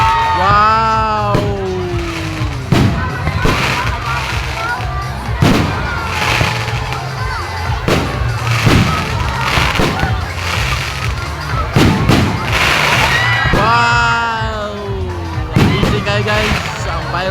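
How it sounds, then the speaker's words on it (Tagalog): Fireworks at a Christmas light opening in Pantukan, Davao de Oro: repeated booming bursts and crackles go off close by, while a crowd cheers and people talk excitedly throughout. "Guys, ang fireworks. Tingnan nyo guys."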